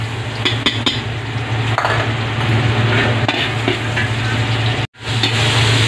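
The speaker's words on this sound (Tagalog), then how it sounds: "So gisa na tayo ng bawang." Garlic sautéing in rendered pork fat alongside liver, intestines and a little pork for chopsuey, giving a steady, close frying sizzle with occasional light utensil clinks and a brief dropout near the end.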